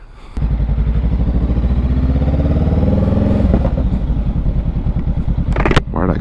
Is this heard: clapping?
no